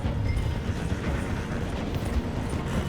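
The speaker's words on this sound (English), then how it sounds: "The train is slowing down to go through the station." Horse hooves clip-clopping beside a slowing train in Red Dead Redemption 2, steady galloping hoofbeats over a continuous rumble of rail wagons, loud and close without speech.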